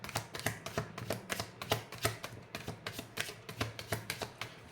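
Tarot cards are shuffled and handled in a quick run of soft taps and flicks, close and quiet, with no talking.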